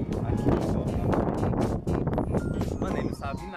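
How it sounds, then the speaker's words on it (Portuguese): Strong outdoor wind buffets the microphone during kite flying at a house, making a loud, continuous rumbling roar that barely lets up for the whole stretch. "Mano, tá um vento do caramba, né?"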